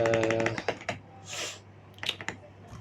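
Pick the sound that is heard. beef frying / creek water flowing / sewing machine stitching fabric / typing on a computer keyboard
typing on a computer keyboard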